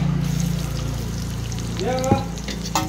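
Carom and nigella seeds fry in hot oil in a kadai, a steady close sizzle with a few stirring clinks and a brief splash near the end.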